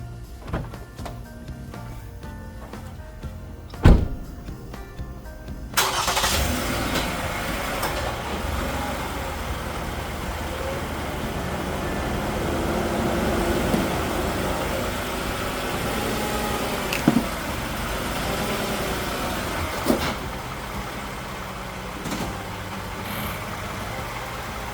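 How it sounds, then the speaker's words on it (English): A car's engine idles and then rumbles steadily as it is driven up onto ramps for an oil change, with a sharp knock near the start and a few clunks along the way. "First thing we'll need to do is go ahead and drive it up on the ramps."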